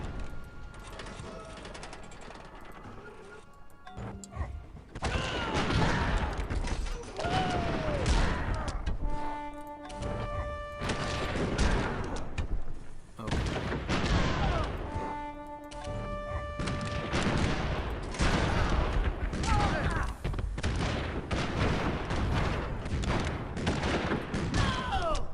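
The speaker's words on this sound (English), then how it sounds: "Fire the light artillery." Light artillery opens fire in the video game Civilization IV Realism Invictus, repeated crashing volleys and thuds over game music and tones, loud and continuous after a quieter opening.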